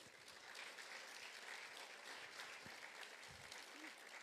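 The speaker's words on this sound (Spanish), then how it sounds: "un aplauso más para el Señor" A church congregation applauds during a worship service, giving sustained, even clapping from many hands at a moderate distance with a soft crowd murmur beneath.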